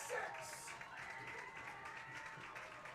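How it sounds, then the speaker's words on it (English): Steady crowd roar with scattered applause and cheering in the stands at a North Dakota high school football game, Northern Cass against Central Cass, a continuous moderately loud wash of noise with a brief swell near the start. "Really starting to feel that roar of the crowd here."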